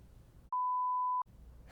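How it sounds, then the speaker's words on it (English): A single steady censor beep lasting under a second and bleeping out a name, cutting sharply over faint room noise and quiet talk on either side. "I could beep it out."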